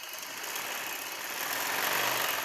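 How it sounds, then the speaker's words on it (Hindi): A sewing machine stitching the folded hem of a baby's summer frock, a steady fast mechanical whirr up close that rises slightly in the last second, with no talking. "इस कपड़े को मोड़ते हुए चारों कोने इसके अच्छी तरह से मोड़ के सिलाई कर लें चारों साइड से।"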